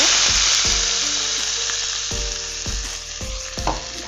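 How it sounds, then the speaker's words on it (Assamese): A paste of tomato, ginger, garlic and onion sizzles loudly in a pan for a paneer curry, with steady frying crackle broken by regular scraping stirs; no voices. "মছলাখিনি ভাজি থাকোতে গেছৰ জুইটো কমাই ৰাখিব"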